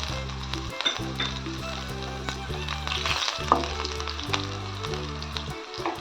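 Steady crackling sizzle of mustard seeds and green chilies frying in hot oil, continuous and close, with faint clinks of utensils over a low rhythmic background hum.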